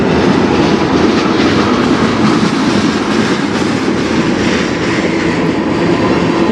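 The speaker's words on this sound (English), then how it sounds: "And more trains at Berea" Trains passing at Berea, a loud continuous rumble of rolling rail cars with rhythmic clickety-clack of wheels over the track joints, steady and close throughout.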